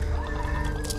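A short bird call from the video game Back 4 Blood, a brief, harsh, crowing cry heard up close over low background game rumble.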